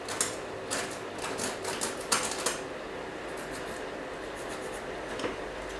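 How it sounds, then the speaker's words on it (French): A marker or pencil traces glue lines on a panel for a light-up gingerbread light-show decoration, producing short, close scratchy strokes in several bursts over quiet room tone, with no talking. "Je vais venir tracer où je vais devoir mettre de la colle."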